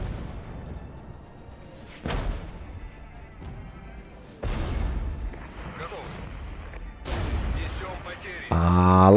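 Cluster munition explosions in the war game Regiments, a sequence of heavy booming blasts with rumbling tails spaced a couple of seconds apart, loud and close, over continuous battlefield noise.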